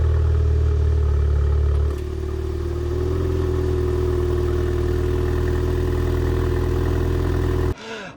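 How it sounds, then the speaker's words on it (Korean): A Maserati Ghibli mild-hybrid with a 2.0-litre engine idles steadily after start-up, its exhaust drone loud and close inside the cabin, a steady low rumble that settles slightly after a brief dip, then cuts off at the end. "실내에서 시동을 키니까 이 배기 소리가 더 배가 되니까"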